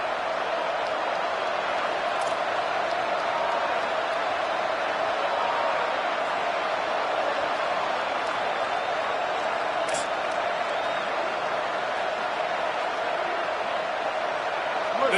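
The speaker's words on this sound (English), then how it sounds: "The Tide crowd rolling noise down onto Saban Field on third down." Loud, sustained stadium crowd roar at an Alabama football game on third down, a dense continuous wall of cheering and noise with a few faint whoops cutting through, heard under a commentator's speech.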